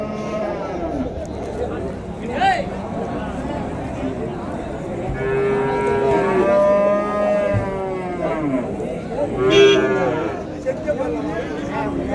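Large cattle at a cattle market in Uthangarai, Krishnagiri district, give several long moos over a steady background of crowd chatter and nearby talk.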